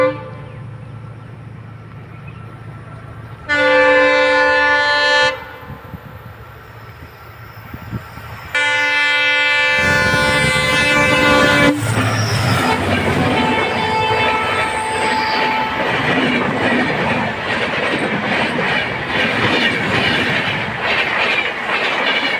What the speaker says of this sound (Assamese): এতিয়া ট্ৰেইনখন আহিছে